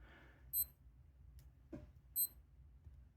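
Two short high electronic beeps from a digital wristwatch sound about a second and a half apart, with a faint click between them in a quiet room.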